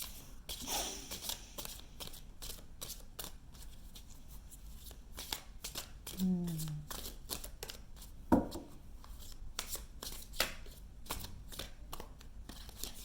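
Tarot cards are shuffled by hand in quick, crisp riffling bursts, soft and close, with brief pauses and a few light taps between the shuffles.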